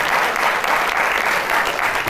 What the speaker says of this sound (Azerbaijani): Gəl alqışlayaq